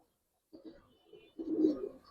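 Giribaz and colouring pigeons coo close by in two short bursts, low and throaty, with quiet pauses between.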